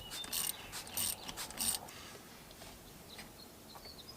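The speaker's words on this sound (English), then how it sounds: "I'm going to take two 12mm ratchets and remove this." Two 12mm ratchets clicking in quick bursts while shifter parts are removed from a 2018-2020 Subaru STi during a short shifter install, close and crisp, fading to quiet workshop background.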